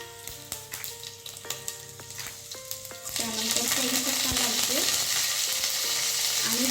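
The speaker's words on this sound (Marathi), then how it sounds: "तेल गरम झालेलं आहे मोहरी तरतरलेली आहे त्याच्यामध्ये एक मी तीन चार काकड्या लसणाच्या बारीक अगदी कट करून घेतलेल्या आहेत" Finely chopped garlic hits hot oil with popping mustard seeds for a bitter-gourd curry; after a few clinks and steady hum, a loud, sustained hiss of frying takes over and continues close-up.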